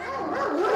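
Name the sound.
Central Asian shepherd dog barking at shelter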